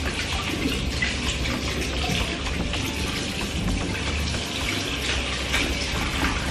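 A bathroom sink tap runs steadily while someone washes their face, producing a continuous close rush of water with faint splashes and no talk.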